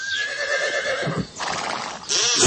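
A horse neighing sound effect in a Greek sports radio advertisement: one loud, close whinny that wavers and shakes, with faint hoof clops beneath and a bright burst at the end.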